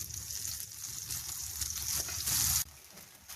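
Dal halwa mixture frying and being roasted in a pan, a soft continuous sizzle with occasional stirring scrapes, rising briefly louder before dropping off near the end.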